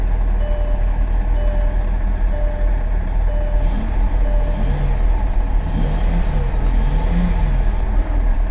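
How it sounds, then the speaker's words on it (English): A 2001 Mercedes S600 engine idles steadily just after starting, a continuous low rumble with no talking over it. "Oh, she fired right up."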